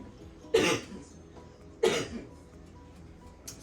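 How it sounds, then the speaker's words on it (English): Two sharp, fairly loud coughs about a second apart from a home cook seasoning chicken wings with Tony's seasoning; a faint third sound follows near the end, with no talking. "Tell you that Tony seasoning will make you cough"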